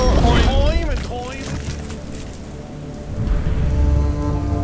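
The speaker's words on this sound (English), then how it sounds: "Your airship battles through the raging thunderstorm above Zashatan's dense jungles" A rain and thunderstorm sound effect for a tabletop fantasy role-play session, with dense, hissing rainfall, a low rumble swelling toward the end, and a voice briefly heard at the start.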